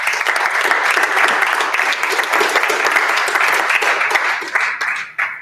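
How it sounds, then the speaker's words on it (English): Dense, loud applause fills the room at a live tech presentation in a startup incubator, a continuous roar of many hands that tapers off with a few last claps at the end. "Please, everyone, give a nice round of applause for Ryan Shea."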